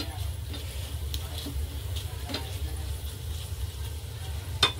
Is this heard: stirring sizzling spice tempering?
yes